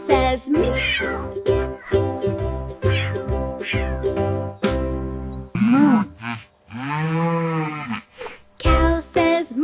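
A voice sings a children's song in a melodic, animal-like tone and imitates a cow's long moo, with music accompanying throughout.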